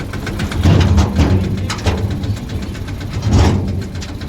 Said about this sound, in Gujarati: પપ્પા છે ને ટ્રેક્ટર લઈને આવ્યા છે